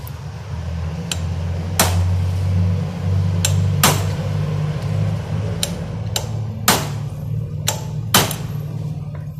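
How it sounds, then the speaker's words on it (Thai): A chisel or screwdriver is hammered against a motorcycle chain pin, giving about eight sharp metallic strikes at uneven intervals over a steady low machine hum. "เจียเสร็จเอาสกัดหรือเอาไขควงมาตอก"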